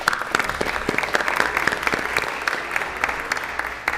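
A city council meeting audience gives a round of applause for a group of young ladies: dense, steady clapping from many hands in a large chamber, sustained for several seconds.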